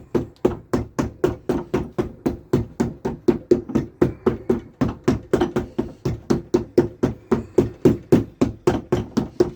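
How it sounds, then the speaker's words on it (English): Rapid, steady hammer taps on a hill walking boot as its sole unit is fixed onto the heated, glued upper, some thirty sharp knocks in an even rhythm, close and loud, with no talking. "give it a few taps of the hammer"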